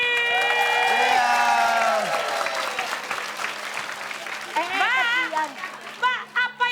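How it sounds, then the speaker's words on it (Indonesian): An audience at a comedy show claps and cheers, a burst of applause under a voice speaking and laughing, fading into scattered claps and chatter. "oke kita kasih tepuk tangan dulu buat Cherry Lady"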